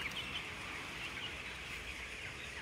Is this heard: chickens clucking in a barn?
yes